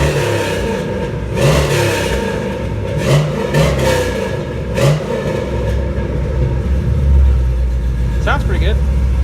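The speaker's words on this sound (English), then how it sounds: "Go ahead and give it a rev here for you." A 1983 Chevy K10 pickup with an LS engine swap and a newly finished exhaust, idling with a deep low rumble and rising in a few short revs, recorded up close indoors while someone talks over it.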